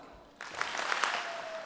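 Convocation audience at the University of Calgary giving a coordinated double clap, a sudden burst of many hands that lingers as a short wash of applause, fairly close and loud with no talk over it.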